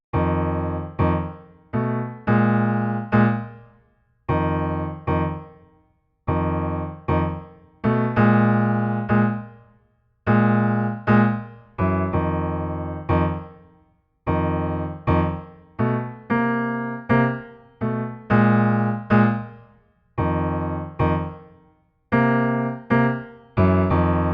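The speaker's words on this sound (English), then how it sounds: "This is called a half step approach or half step planing." Jazz piano chords played in short rhythmic bursts, each chord sliding in from a half step away, clear and solo without voices.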